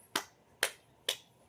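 Three sharp, separate claps spaced about half a second apart, close and crisp, with quiet between them and no talking.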